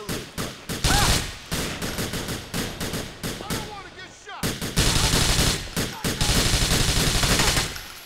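Loud automatic gunfire from the video game GTA IV, rapid bursts of shots in dense rattling volleys with brief pauses between them.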